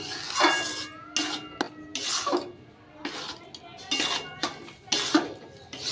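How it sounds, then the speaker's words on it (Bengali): A spatula scrapes and stirs inside an aluminium kadai on a gas stove, making rhythmic rasping strokes about every second with metallic clinks and brief pauses between, close and clear with no speech. "এবার এটাকে ভালো করে খুঁজি দিয়ে একটু নাড়াচাড়া করে নিচ্ছি"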